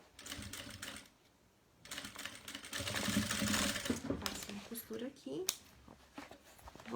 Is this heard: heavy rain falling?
no